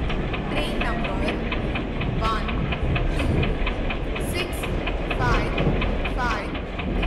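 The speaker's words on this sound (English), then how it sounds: "12655 passenger express is arriving at platform" A passenger express train in a train game rolls up to a platform with a continuous heavy rumble and rhythmic wheel clatter. A station announcement voice talks over it throughout.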